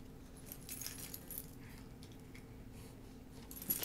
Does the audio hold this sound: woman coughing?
no